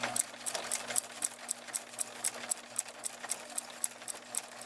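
Close, steady rhythmic chatter of a home sewing machine stitching a quarter-inch seam in fabric, run slowly with rapid, evenly spaced needle ticks over a low constant motor hum.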